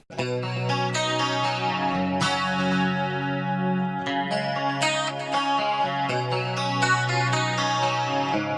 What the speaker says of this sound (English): we're gonna choose the dual delay. And then we're gonna have a quarter note on the left, and then a dotted 8 note on the right